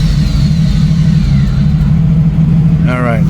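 A 1990 Jeep YJ with a 4.2L engine and a troublesome carburetor idles steadily after its gas pedal is pumped, giving a loud, close, even rumble. A brief voice rises over it near the end.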